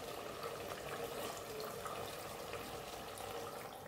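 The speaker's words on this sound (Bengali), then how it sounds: "এবার এই গরম জলটা এই যে দই মিশিয়েছিলাম একটু ধুয়ে দিলাম" Hot water is poured into a bowl that held yogurt to rinse it out in a home kitchen. The stream runs steadily and softly for a few seconds, with no talking over it.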